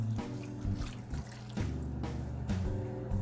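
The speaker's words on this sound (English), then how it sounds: "starting out with 1 cup of water." A cup of water is poured over carrots in a pot on medium heat, giving a close, continuous splashing and gurgling pour with no talk.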